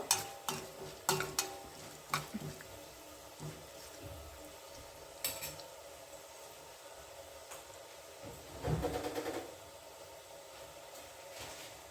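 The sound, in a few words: urad dal, mustard seeds and dry chili frying in oil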